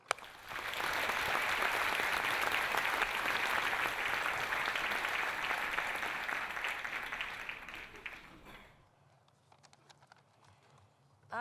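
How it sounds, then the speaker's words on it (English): Audience applause at an informational seminar at Borough of Manhattan Community College, a dense sustained clapping that holds steady for about eight seconds before thinning out, then near silence with faint room noise. "So let's give a round of applause for Yvonne Pang."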